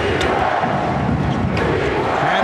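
A New Jersey Nets home crowd at the 2002 NBA Finals against the Lakers chants for defense, a loud continuous roar from a packed arena with rhythmic shouting throughout.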